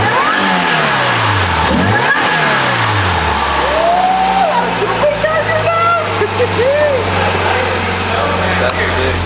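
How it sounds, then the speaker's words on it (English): Supercharged 2014 Subaru BRZ engine revs loudly nearby, its deep exhaust note rising and falling with a rising supercharger whine over it, while people talk over the sound. "I like hearing that supercharger whine though, that's pretty cool."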